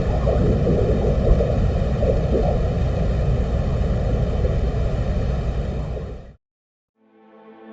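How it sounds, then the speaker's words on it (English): Wind-like roar captured on the surface of Venus by microphones aboard a 1982 Soviet lander, a steady broadband rumble that cuts off abruptly near the end, followed by a faint tonal hum. "the Soviet Union landed a probe on the surface of Venus, and it was equipped with microphones. And this is what it sounds like on the surface of the planet."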